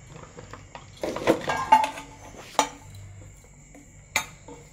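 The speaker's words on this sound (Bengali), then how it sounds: "দেখুন বন্ধুরা, যে থালাতে আমরা করব ওটাতে একটু বেশি করে তেল মাখিয়ে নিচ্ছি।" Steel plate being oiled for semolina dhokla: soft rubbing and scraping with a few light metallic clinks and taps, close and fairly quiet, no talk.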